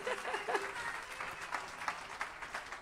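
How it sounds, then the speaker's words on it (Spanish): Audience applause for the musicians at a tribute concert, moderately quiet crowd clapping with a few voices briefly mixed in near the start, steady and somewhat distant. "Por favor, un fuerte aplauso para estos pedazos de músicos que tenemos aquí"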